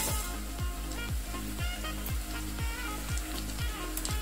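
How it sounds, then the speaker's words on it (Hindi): Sliced onions and whole spices sizzle steadily in a hot pan, a loud continuous fry with a regular low rhythmic thump repeating about twice a second underneath. "जब तक हमारा प्याज फ्राई हो रहा है तब तक मैं ये मसाले भी यहाँ भून लेती हूँ।"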